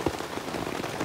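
Rain patters steadily at a motorcycle campsite, a dense even hiss of drops striking surfaces close by, with no one talking.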